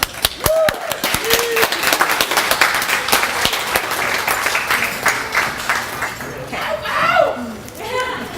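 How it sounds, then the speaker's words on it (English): An audience at a speech event bursts into loud, dense applause right after a speaker is introduced, with sharp claps up close. Cheers and chatter rise as the clapping thins out. "let's give a round of applause for Sam."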